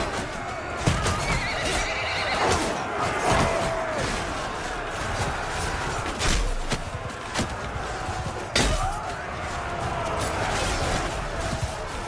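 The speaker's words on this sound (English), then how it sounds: "The bulk of the horses are going back this way." In the video game Mount and Blade II Bannerlord, several horses whinny and neigh loudly over a constant rush of galloping hooves during a battle, with occasional heavy crashes and thuds mixed in.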